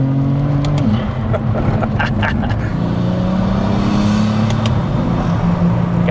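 A 511 bhp BMW E92 330d with a swapped B58 engine and Master ADU7 ECU drives nearby, its engine note rising and falling through hard, brutal shifts and revs, loud and continuous with no talk.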